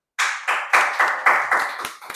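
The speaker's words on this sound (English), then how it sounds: "Give yourselves a round of applause" A small audience applauds at the close of a school debate. About eight sharp, evenly spaced claps come close and loud in a short, brisk run.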